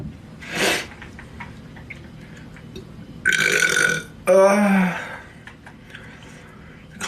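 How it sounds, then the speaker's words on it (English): A person burps on command in a big, drawn-out belch, after a short breathy sound earlier on, with quiet room noise between the sounds. "Burp on command."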